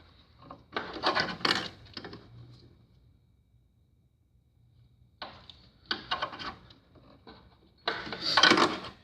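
An adjustment on a Dixon ZTR mower is turned back with a crescent wrench, giving quiet metallic scraping and rubbing in short bursts, with a silent pause in the middle before the turning resumes.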